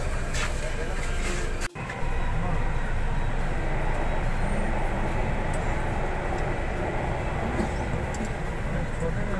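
A Delhi metro train runs with a steady, loud rumble and rush that fills the whole stretch, broken once by a short cut-out.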